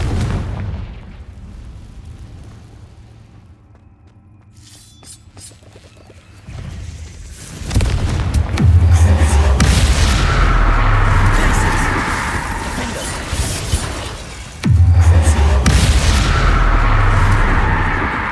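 Confringo spell blasts in Hogwarts Legacy land as two heavy, booming explosions with long roaring rumbles, loud and close, after a quieter stretch of low game ambience.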